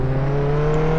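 Milk truck driving in the Roblox game Jailbreak, a steady synthetic engine whir with a constant droning hum, close and even for a brief moment, with no talk over it.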